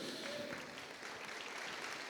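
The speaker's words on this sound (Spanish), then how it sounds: "dale un fuerte aplauso al Señor" Church congregation applauding during a Spanish-language sermon, a fairly quiet, steady patter of clapping that carries evenly through the whole stretch with no voice over it.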